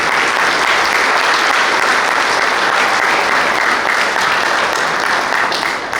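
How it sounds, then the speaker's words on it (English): A lacrosse banquet audience applauds, dense steady clapping from a full room sustained for several seconds before tapering slightly at the end. "Give them a round of applause as well."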